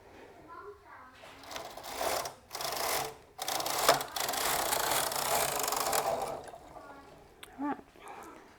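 Knitting machine carriage passing across a row, a close rattling mechanical whir in several sweeps with short pauses between them, ending in a few quieter clicks.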